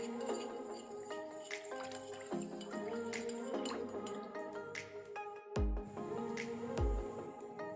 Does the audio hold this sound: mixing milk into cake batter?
yes